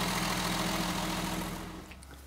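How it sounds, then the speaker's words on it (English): A Mercedes 280SE six-cylinder gasoline engine runs close by with a smooth, even low rumble and a steady hum, easing slightly quieter toward the end. "Just listen to how sweet this little six-cylinder runs now."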